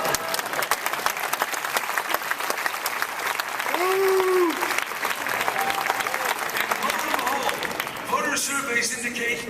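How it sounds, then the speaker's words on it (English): Graduation audience applause for a governor's address to political science graduates: dense, sustained clapping from a large crowd fills the whole stretch, with a brief voice rising over it midway and crowd noise shifting near the end. "you can applaud for that"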